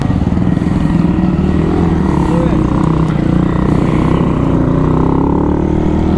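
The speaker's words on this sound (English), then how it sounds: "let's go on the bike, do a final ride there" A small Monkey Bike motorcycle ridden on the road in Portugal, its engine a loud, continuous close-up drone with steady low throb and wind rush throughout, with no pauses.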